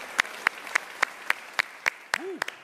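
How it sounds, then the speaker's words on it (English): Slow, evenly spaced single claps at an online business event on preboarding, about one sharp clap every quarter second, with a brief tonal blip near the end and no talking. "So big applause."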